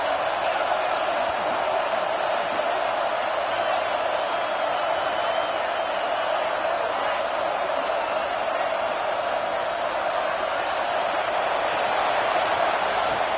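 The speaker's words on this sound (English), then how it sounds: "And the crowd coming to life here, trying to help this defense down in the red zone." A large crowd roars in a college football stadium during a Clemson game as the defense holds near the goal line, a continuous dense wash of cheering and noise that stays steady and loud throughout.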